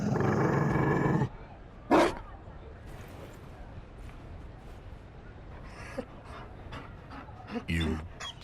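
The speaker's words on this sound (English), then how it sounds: "You found a dog?" Mabari war dog from Dragon Age: Inquisition giving a loud breathy growl at the start, then short panting bursts near two and eight seconds over a quiet game ambience.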